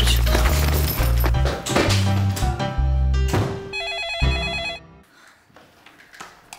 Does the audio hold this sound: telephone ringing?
yes